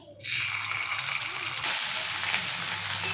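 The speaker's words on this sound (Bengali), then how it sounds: "এবার এর মধ্যে দিয়ে দিচ্ছি কিছুটা পরিমাণে আদা বাটা" Ginger paste drops into hot mustard oil that already holds whole cumin and dried red chillies. It sets off a sudden, loud, steady sizzle that stays close and continuous.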